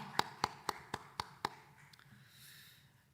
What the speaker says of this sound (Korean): 박수로 축하하도록 하겠습니다